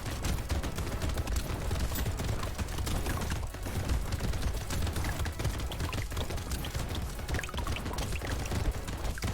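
Two explosive turrets fire nonstop in Brotato, a loud, dense stream of rapid pops and blasts layered into an unbroken clattering barrage from start to finish.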